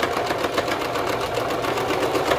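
A sewing machine back stitches a fabric face mask, its needle running in a steady, rapid whirring chatter that stays close and even throughout, with no talking.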